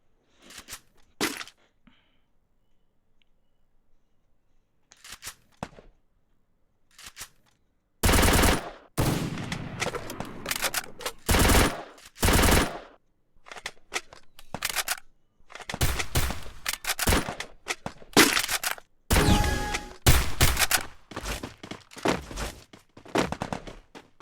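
Free Fire video game gunfire: rapid automatic bursts and single cracks, sparse and faint at first, then dense loud volleys, with no voices.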